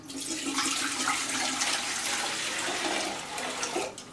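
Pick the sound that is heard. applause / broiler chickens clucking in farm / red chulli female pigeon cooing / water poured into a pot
water poured into a pot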